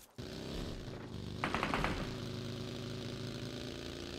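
Gunfire from a new weapon in a shooter video game, a short rapid burst of shots over a steady idling vehicle engine drone, with no talk.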